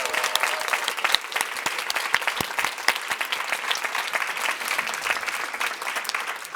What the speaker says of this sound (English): So we're gonna do one more round of applause for every single person who tried to participate